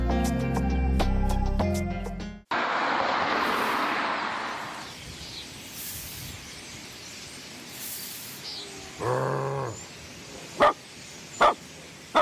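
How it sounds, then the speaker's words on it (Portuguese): A single dog yelps or barks midway, following a burst of music and a stretch of hissy background noise, with a few sharp knocks near the end. "Sai daqui, cachorro!"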